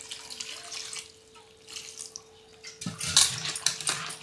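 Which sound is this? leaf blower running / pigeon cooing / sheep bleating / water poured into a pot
water poured into a pot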